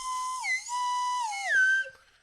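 A person whistles a short tune up close, holding clear pure notes with a few gliding pitch changes before trailing off at the end, with no talking.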